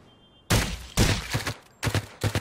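Gunfire in the battle royale game Rules of Survival: several loud bursts of shots in quick clusters after a brief quiet start, with sharp impacts and short gaps between volleys.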